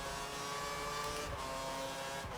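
Race cars in the F1 2013 video game head into the pits at the Australian Grand Prix, a continuous engine whine and drone with no pause.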